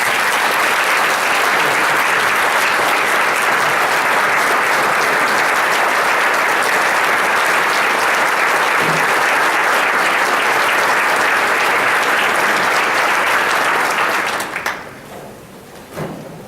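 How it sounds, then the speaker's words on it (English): A large audience applauds Commissioner of Agriculture Steve Troxler at the North Carolina State of Agriculture Address, a dense, steady wash of clapping for about fourteen seconds before it quickly dies away. "Let's give him a round of applause"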